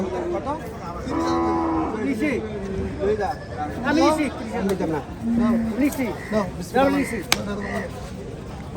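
Bullocks lowing repeatedly at a busy cattle market in Chandina, Cumilla, Bangladesh, with several moos rising and falling over a steady hubbub of traders and crowd chatter.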